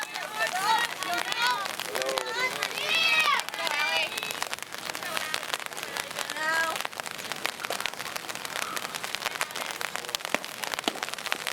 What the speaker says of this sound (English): Rain coming down here once again here